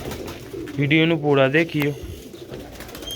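Black-faced sheikh pigeons give a few close, clear rolling coos in quick succession, with someone speaking briefly around them.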